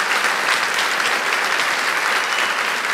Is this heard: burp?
no